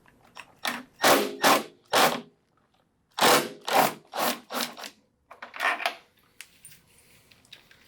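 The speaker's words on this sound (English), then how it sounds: "there's 7 T27 Torx screws on here that we have to take off to get the front of the fairing off" Torx T27 screws being worked out of the front fairing of a 2014-or-later Harley-Davidson, heard as a series of rough scraping, rubbing bursts in clusters with short pauses, close and fairly loud, with no talking.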